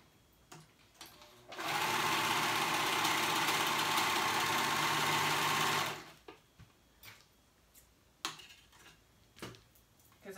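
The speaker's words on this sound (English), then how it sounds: "I'm using my serger." A serger runs steadily for about four seconds, stitching the shoulder seams of a top through four layers of fabric, a loud close mechanical whir with a fast ticking rhythm, then stops, leaving only faint handling noises.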